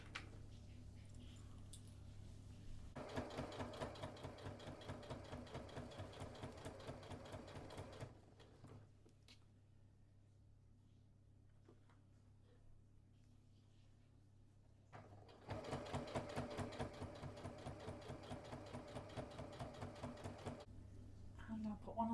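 Domestic sewing machine stitching down a quilted wall hanging, its steady fast motor chatter running in two sustained bursts separated by a quiet pause, with faint talk in the background.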